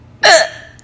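A single sharp, loud hiccup, close and abrupt, with a brief voiced squeak that trails off quickly in a quiet room.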